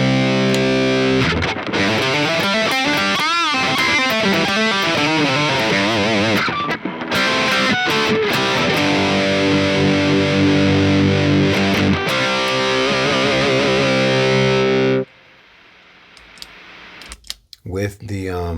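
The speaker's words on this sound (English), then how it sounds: "Here's my distortion pedal. I can use it by itself." An electric guitar played through a distortion pedal used on its own rings out with loud, sustained, heavily saturated chords and notes for about fifteen seconds, then cuts off abruptly, leaving a few faint clicks.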